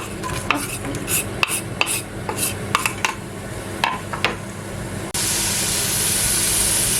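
Onions browning in a pan for a tomato sauce, first stirred with a run of sharp utensil clinks and scrapes, then a sudden steady loud sizzle taking over.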